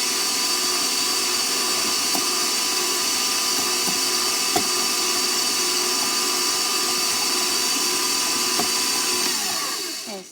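Electric mixer whisking soft butter and sugar together in a bowl, a loud steady motorized whir running continuously for about ten seconds before cutting off at the end.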